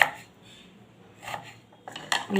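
A knife cuts a peeled potato into long strips for a lentil dish, giving a few crisp chopping clicks against a board, one near the start, one midway, and a cluster near the end, with quiet gaps between.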